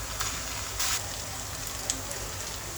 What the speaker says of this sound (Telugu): ఇప్పుడు అల్లం వెల్లుల్లి పేస్ట్ 2 స్పూన్లు వేసుకుంటాం